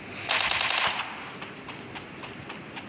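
Rapid automatic gunfire from the mobile shooter game Free Fire, a loud close burst of fast shots followed by sparser, quieter single shots and pops.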